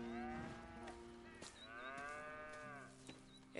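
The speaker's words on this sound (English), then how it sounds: "Here's the cows." Cows mooing on a farm in the video game Red Dead Redemption 2, two long drawn-out moos one after the other, fairly close, over quiet ambient background.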